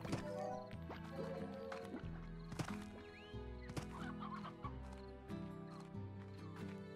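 Chickens clucking on a ranch in the video game Slime Rancher, with short fowl calls rising over a steady bed of game music and ambient layers, close and moderately loud.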